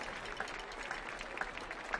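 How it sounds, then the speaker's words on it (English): Steady applause from a crowd after a swing dance performance at the Millennium Stage, dense clapping sustained throughout at moderate volume. "another round of applause for the fabulous 8-Week Wonders"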